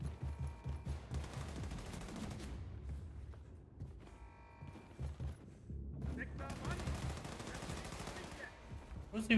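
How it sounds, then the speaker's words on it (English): Bursts of rapid automatic gunfire and shots in the shooter game Wolfenstein II: The New Colossus, in clustered volleys with brief lulls, fairly loud against a low game background. "Who's even shooting?"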